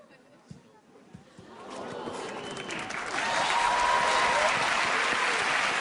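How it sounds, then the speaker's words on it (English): A theater audience at a magic show bursts into applause after a card trick, the clapping starting thinly and swelling into a loud, sustained ovation with some voices mixed in. "I cannot accept that much applause for a subpar memory demonstration"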